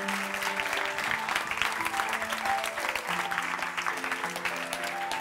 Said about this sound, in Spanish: recibáis a todos estos equipos y a todo este talento con un fortísimo aplauso